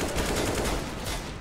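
Rapid bursts of automatic gunfire in Counter-Strike: Global Offensive crackle continuously, loud and close, with no voices over them.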